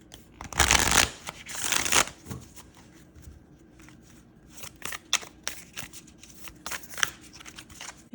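An oracle card deck is riffled and shuffled in a few quick bursts, followed by softer scattered flicks and taps of the deck being handled up close.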